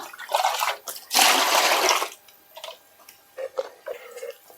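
Two litres of water poured into a dish during rubber sheet making in Kerala, a few gurgling splashes including one longer pour, then small drips and clinks, close and alone.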